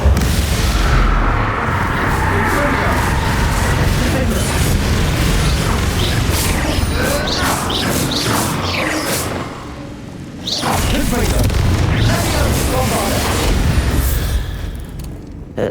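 A Confringo fire-spell explosion in the video game Hogwarts Legacy, set in a tomb: a dense, roaring blast with whooshes and crashing debris that rumbles on for many seconds, loud and close, briefly dipping before surging again.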